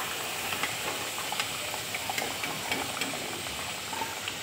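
Potatoes frying in oil in a wok, a gentle continuous sizzle dotted with small crackles, faint and without voices.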